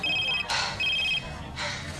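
A telephone rings in two short electronic trilling bursts separated by a pause, fairly loud and close, with brief voices and rustling heard between the rings.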